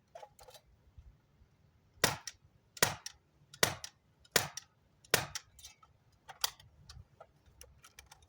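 An AK74 UM air rifle fitted with a PBS-1 suppressor fires six muffled shots at a steady pace, each a short crisp crack, with faint mechanical clicks between them.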